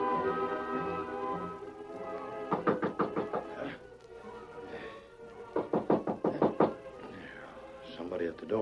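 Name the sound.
knocking on a door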